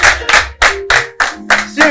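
An audience at a live show claps in several loud bursts of hand clapping, each one short and close, with a quiet voice in the pauses.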